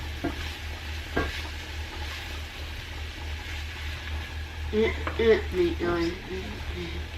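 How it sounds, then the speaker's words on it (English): Vegetables cooking in a pan being stirred, a soft, steady sizzle with occasional scraping of a utensil, fairly quiet, with a voice talking near the end. "Alright, so I'm gonna give these another quick stir."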